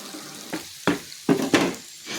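Water is poured into a pan of frying ginger seasoned with turmeric, chili powder and salt for inji puli. It gives several sharp hissing sizzles in quick succession, close by, with no voices.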